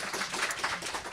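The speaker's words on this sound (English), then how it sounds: "So please applaud for our panel." An audience at a journalism careers panel claps for the panelists, a brief burst of scattered hand claps at moderate volume.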